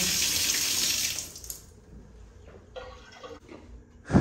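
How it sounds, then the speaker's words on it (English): Water gushes loudly from a bathtub faucet in a hotel suite for about a second and a half, then cuts off, followed by quieter dripping and trickling, with a brief splash at the end. "This right here is to turn on the water."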